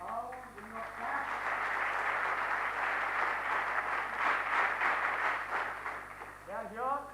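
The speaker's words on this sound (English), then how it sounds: "I request everyone to give a round in your clap" An audience claps steadily at a book dedication ceremony, a sustained round of applause that swells and then fades, with a voice speaking briefly at the start and end.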